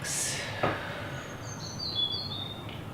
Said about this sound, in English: I get to hear the birds singing.